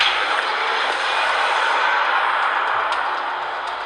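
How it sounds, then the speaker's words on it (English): Loud, broadband roar of a heavy truck rumbling close by, steady for a few seconds then easing slightly, with no speech. "Okay, this loud truck, yeah."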